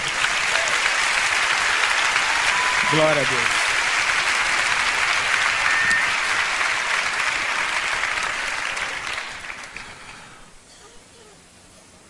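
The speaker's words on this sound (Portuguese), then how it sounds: "Você pode aplaudir a palavra de Deus?" A church congregation applauds in steady, dense clapping that holds for about ten seconds, then fades away, with a voice speaking briefly over it.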